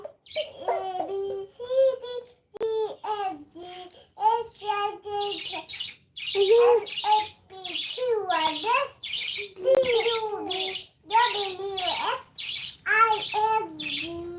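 High, squeaky chirping and tweeting of bird chicks in quick bursts, close and fairly loud, with a voice mixed in among the calls.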